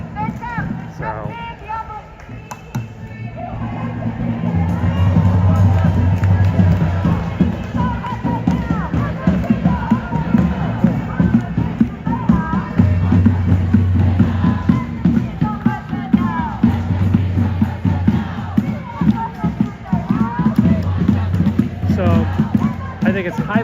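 An agitated crowd of student protesters at police barricades fills the scene with continuous loud babble, shouts and rhythmic chanting, with scattered clattering and banging throughout.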